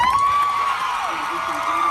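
A large outdoor crowd of nurses cheers and whoops outside a courthouse at a sentencing, a loud sustained roar with high shouts and whistles rising over it.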